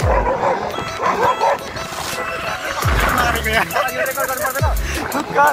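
Several short dog barks and yips ring out over a busy background with some voices and movement, the barks coming in bursts spaced a couple of seconds apart.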